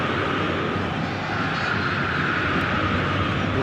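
A dense, steady roar of a packed stadium crowd at an eFootball 2024 match fills the whole stretch, loud and unbroken, with no voices standing out.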